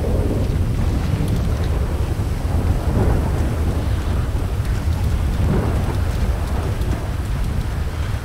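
A thunderstorm in the video game GTA during roleplay, with steady heavy rain on surfaces and deep rolling thunder swelling and fading throughout, loud and continuous with no voices.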